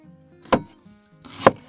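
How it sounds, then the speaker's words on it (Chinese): Ginger is sliced on a chopping board for a spicy beef bone dish, two distinct sharp knife chops about a second apart, close and clear with quiet pauses between them. "切点姜片"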